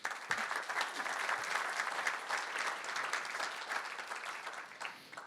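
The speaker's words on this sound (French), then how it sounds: "Je pense qu'on peut t'applaudir aussi." Sustained applause from an audience, dense steady clapping that fills the room for several seconds before tapering off slightly at the end.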